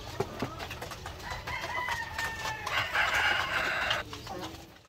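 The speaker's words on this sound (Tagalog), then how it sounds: "So yan yung rooster natin na Orpington Blue." A Blue Orpington rooster crows in a drawn-out call mid-clip, with other chickens clucking around it on a farm.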